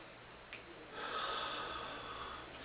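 A person takes a slow, continuous breath in through the nose, close and soft, beginning after a brief sniff and swelling into a long airy inhalation that fades gently.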